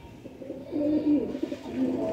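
Pet pigeons coo close by in soft, throaty, repeated rolling calls, several birds overlapping against a quiet background.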